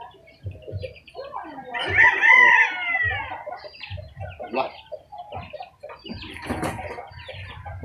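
A rooster crows loudly and nearby, followed by bursts of clucking and further calls, with scattered speech-like sounds in between.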